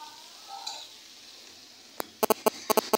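Kakrol (bitter gourd) and potato fry softly in a pan, a faint low sizzle that gives way to a quick run of sharp spatula scrapes and clacks against the pan near the end.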